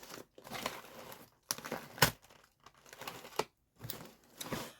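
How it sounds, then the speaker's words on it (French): Bubble wrap crinkles and crackles in irregular bursts, with short pauses between handfuls of rustling plastic, close and fairly quiet. "Très pratique le papier bulle. Très pratique. Ça fait des bruits bizarres en fait."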